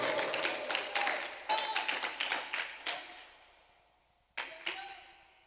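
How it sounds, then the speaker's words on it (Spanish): A small church congregation applauds during a Spanish-language sermon, with scattered claps that thin out and trail off, then a couple of late claps, fairly close in a quiet room. "Dele un aplauso al Señor."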